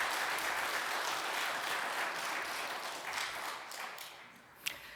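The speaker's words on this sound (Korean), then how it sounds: "가족분들이 오셨는데 일어나 주시면 우리 박수로 환영해 올리겠습니다" A church congregation at a Sunday service in New York applauds warmly, with dense sustained clapping that gradually tapers off near the end.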